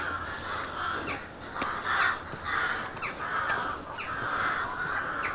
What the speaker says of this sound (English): Pretty scary having these ravens near that abandoned castle.